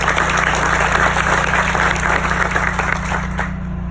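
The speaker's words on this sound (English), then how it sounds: "Round of applause for you." Crowd of workers and guests applauding at a rug manufacturer event, a thick wash of clapping that stays loud and even before thinning out near the close.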